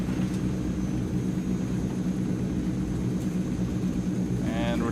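Simulated Transall C160 turboprop engines spool up in Microsoft Flight Simulator, a steady loud droning roar with constant tonal whine that holds level for the whole stretch, a brief voice surfacing near the end.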